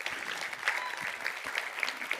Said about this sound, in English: Big round of applause to Panos and Maria.